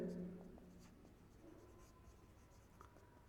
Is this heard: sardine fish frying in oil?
no